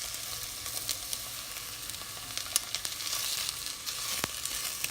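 Fried tofu and fresh onion sizzle steadily as they are stirred in a pan for a spicy dish, with a continuous close frying hiss and occasional soft scrapes and clicks from the utensil.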